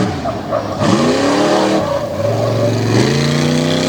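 Race truck cornering on a speedway track, engine revving hard and tires squealing through the turn, then the engine note climbs again on acceleration, loud and close.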